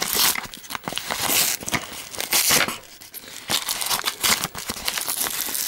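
An item is pulled out of a crinkly plastic bag while an arcade control panel is unpacked: loud, close, continuous crumpling and rustling with sharp crackles and tearing bursts, and no voices.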